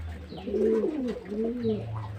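Pigeons coo steadily while feeding, a few overlapping soft rolling calls close by with no talking.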